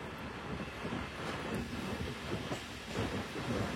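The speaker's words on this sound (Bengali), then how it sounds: "বনানী রেলওয়ে স্টেশন প্রবেশ করছে।" The Joydebpur commuter train rolls into Banani railway station with a continuous low rumble and rhythmic wheel clatter over the rails, steady and fairly faint, with no one speaking.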